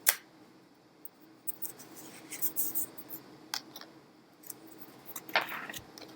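Tarot cards are drawn and handled close up in a quiet room, giving soft, scattered flicks, taps and rustles of card stock.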